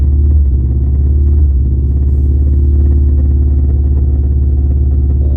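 A Toyota GR86 engine with the throttle pressed but not making power produces an abnormal, loud, steady low rumble that drones on without pause for the whole stretch.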